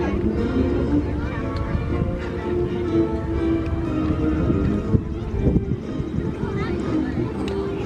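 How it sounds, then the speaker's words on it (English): Vintage airplane engines rev up together before a formation takeoff at the Flying Circus Airshow in Bealeton, a loud, steady broadband roar filling the whole stretch with slight wind buffeting. "Revving them up."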